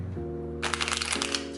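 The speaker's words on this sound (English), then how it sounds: "Shuffle those back in there." A Morgan Greer tarot deck is riffle-shuffled close by, giving a quick burst of papery card flutter that runs just over a second over a steady background hum, with no speech.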